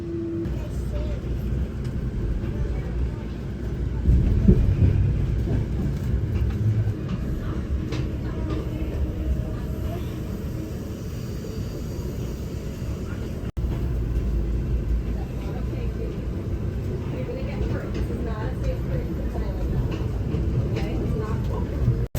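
Steady low rumble of an Amtrak passenger train rolling along the rails near Baltimore, with a continuous rattling drone and a brief louder swell partway through.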